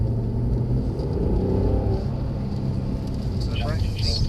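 Inside a Mercedes on a driving course, the engine rumbles steadily and swells as the throttle is fed out of a turn, with a voice giving instructions over it.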